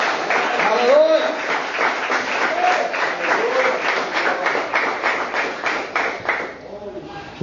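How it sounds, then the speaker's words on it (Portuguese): An evangelical church congregation gives a round of applause for Jesus Christ: steady, fairly close clapping that keeps up throughout, with voices speaking over it and fading slightly at the end. "eu peço uma salva de palmas para o Senhor Jesus Cristo"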